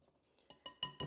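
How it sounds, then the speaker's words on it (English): Whisk clinking against a bowl while stirring flour and salt together for a homemade chocolate pie crust, a few sharp metallic taps growing louder toward the end, close and alone. "We're just going to give that a little whisk around"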